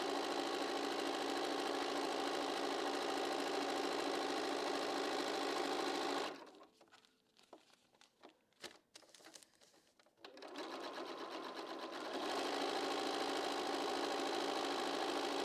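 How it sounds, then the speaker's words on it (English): A domestic sewing machine stitches a quilt block with a steady, close whir at short stitch length, pausing for a few seconds midway before running again at the same even pace. "I'm sewing right on the line."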